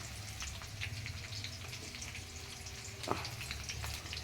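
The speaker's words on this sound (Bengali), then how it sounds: "এই যে ম্যারিনেট করা মাংসটা এবারে চিকেনটা দিয়ে দিচ্ছি।" Marinated chicken frying in a pan with browned onions during home cooking gives a quiet, steady crackling sizzle with scattered pops and one sharp clink, faint and close, with no talking.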